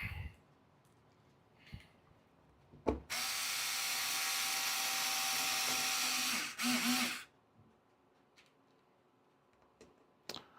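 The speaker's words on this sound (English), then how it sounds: "One screw at a time." A power driver sets screws during an RC car build: one steady, close whine lasting about three and a half seconds, then a short second burst, with scattered small clicks and taps of parts before and after.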